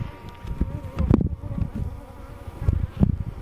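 Honeybees buzz around a row of apiary hives outdoors, a close, wavering drone that swells and fades as insects pass near, with a few soft bumps and rustles mixed in.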